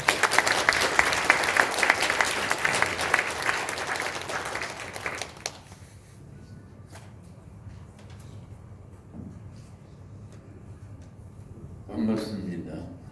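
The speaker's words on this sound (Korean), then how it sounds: "우리 하나님의 영광의 박수, 우리 감사의 박수를 환영하도록 하겠습니다." Congregation at a Christian prayer meeting applauding warmly, a full burst of many hands clapping for about five seconds that stops abruptly, leaving a quiet hall with faint movement and a brief voice near the end.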